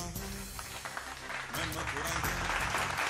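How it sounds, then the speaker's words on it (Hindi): Audience applause for a prize winner at a Hindi poetry recitation competition, a dense clapping wash mixed with music and voices, fairly loud and continuous. "जोरदार तालियां आपकी चाहिए प्लीज"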